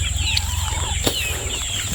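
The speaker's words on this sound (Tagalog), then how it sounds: "Ayan na, papatoka na si Tatang" A rooster among backyard hens and pullets flaps its wings in one brief, sharp burst, with steady farmyard noise and faint birdsong around it.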